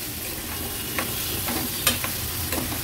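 Prawns, cleaned and washed, stirred in a hot pan for an Agri-Koli style seafood thali, giving a steady close sizzle with a few sharp scraping clinks of the spoon, no voices.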